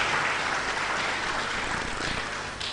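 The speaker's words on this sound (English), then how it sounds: "I pause for your applause." Audience at a 2020 school speech day and prize-giving ceremony claps in a dense, even burst of applause that runs for a few seconds without any speech over it.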